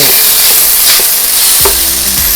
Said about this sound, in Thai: ผัดทุกอย่างให้เข้ากันเลยนะคะ